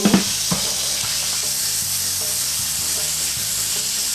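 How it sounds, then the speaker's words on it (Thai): Noodles stir-fried over high heat in a pan with garlic: a loud, steady, hissing sizzle throughout, with a couple of utensil knocks at the start. "ผัดเส้นให้น้องคลายตัวนิดนึง"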